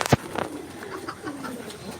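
A domestic pigeon coos once, with soft bird calls trailing behind it in a quiet coop setting. The sound is close and faint, with no talking.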